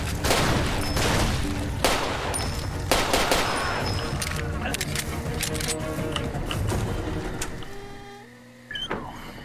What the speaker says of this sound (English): Shooting at me now.